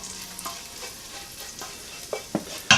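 Garlic browning in a pan for garlic mashed potatoes, a faint steady sizzle broken by a few sharp stirring clicks and scrapes that grow louder toward the end, with no talking.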